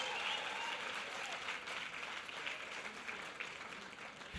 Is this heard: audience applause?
yes